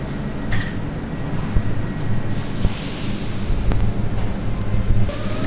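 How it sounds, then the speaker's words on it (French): A Paris Metro line 14 train rumbles nearby, a loud continuous low roar of wheels and motors with occasional sharp clanks and squeals. "La ligne 14 du métro Paris."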